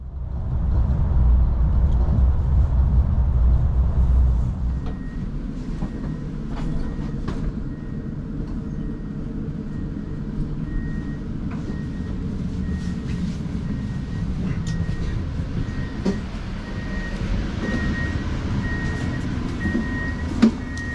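A Vy train on Norway's Bergensbanen rolls into Bergen with a loud low rumble that eases into a steady hum, a faint high whine and scattered clanks as it slows near the platform.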